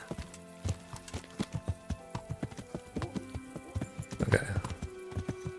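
Hooves of Pebbles, a horse in the medieval game Kingdom Come Deliverance, clopping in a steady walking rhythm of distinct close hits, with someone speaking briefly over them.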